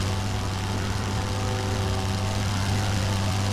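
Rotary engine of a Nieuport 11 biplane in flight in a World War I flight game, a steady, loud, even drone with a low buzzing hum and no voices.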